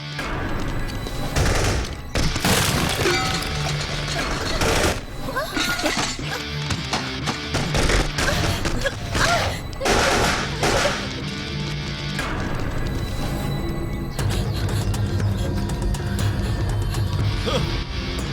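Movie gunfire erupting after an order to fire: dense, loud volleys of rapid shots and bursts crowding each other, mixed with clanking mechanical noise and a score, continuous and chaotic throughout.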